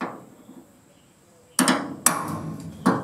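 Three sharp metallic hammer strikes ring out on a punch to knock out a pop rivet, close and loud with short ringing decay, after a quiet start.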